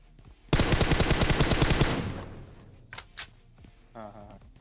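PUBG gunfire: one loud, rapid burst of automatic fire lasting about a second and a half, followed by a couple of quieter single shots and a short rattle.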